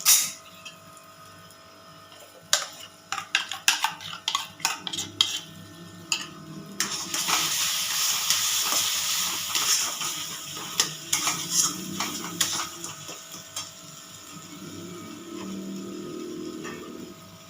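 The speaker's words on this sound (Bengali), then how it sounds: "এবার আমি একটু ভালো করে এটা কষিয়ে নেবো" Stir-frying a paste of onion, ginger and chili with mustard, nut and fennel paste in a pan, with a run of sharp utensil scrapes and clinks followed by a steady close sizzle and intermittent stirring.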